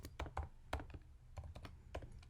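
Typing on a computer keyboard while entering a Python command in a terminal, a quick irregular series of close, soft key clicks and thumps with no talking.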